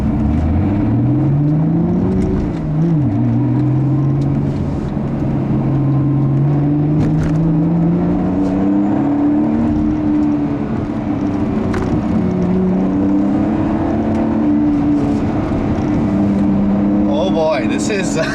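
Lotus Evora S with a Toyota V6 pulling hard, its engine note rising and shifting through gears in a steady loud drone inside the cabin, with a voice talking over it.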